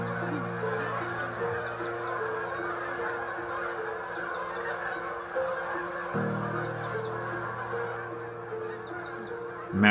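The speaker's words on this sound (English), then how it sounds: "Massive groups of Canadian geese that are not native but now call this area home frequent the lake and break the silence with their honks" A large flock of non-native Canada geese honks on a lake on New Zealand's South Island, with many overlapping calls in a steady chorus at moderate distance, continuous throughout with no talk.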